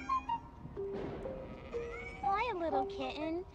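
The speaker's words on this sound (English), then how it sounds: "Hi, little kitten." A kitten meows repeatedly in the Amanda the Adventurer video game, thin rising-and-falling cries heard near and clear, with a person talking over parts of it.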